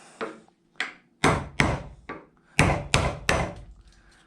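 Hog chisel cutting rotten wood from a sailboat topmast: nine sharp chopping blows at an uneven pace, each a loud woody thunk with a short splintery tail, close by and with no talk.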